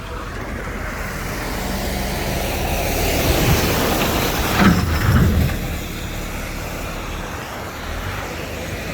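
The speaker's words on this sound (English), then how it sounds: "There's a big truck coming." A big truck rumbles past at a railroad crossing on 13th Street in Terre Haute, Indiana, its sound rising and then fading over steady traffic noise, with a brief rattle as it goes by.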